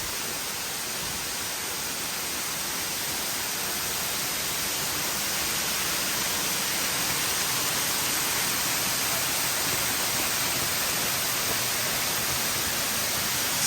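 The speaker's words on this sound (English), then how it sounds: "That's where the water's falling right here." Waterfall at Silver Falls, where a creek drops over the edge, gives a steady, loud broadband roar of falling water that holds evenly from start to finish, with no voices.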